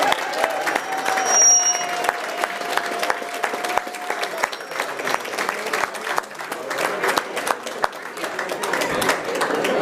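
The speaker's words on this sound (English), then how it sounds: "Can we just have a round of applause for them" A reunion crowd in a school hall gives a couple long, sustained applause, a thick wash of clapping that runs steadily throughout with scattered voices mixed in.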